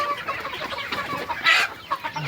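Grown chickens cluck continuously inside a dusty poultry farm shed, a dense, steady chatter of many birds with one louder squawking burst midway.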